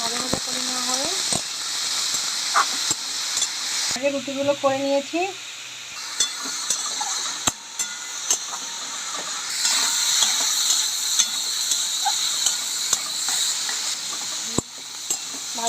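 Vegetables with salt and turmeric frying in a pan hiss steadily at close range, punctuated by sharp clinks and scrapes of stirring; a voice speaks briefly early on over the sizzle.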